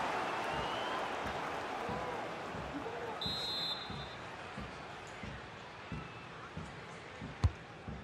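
Stadium crowd in the FIFA 22 football game during a Serie B match between Ternana Calcio and L.R. Vicenza, a steady broad roar with soft rhythmic thumps and one sharp knock near the end, under faint commentary.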